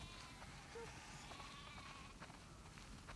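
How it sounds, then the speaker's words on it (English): A large flock of sheep bleating in a barn area in the video game The Last of Us Part II, with a few faint scattered bleats under a steady noisy ambience. "That's a lot of sheep."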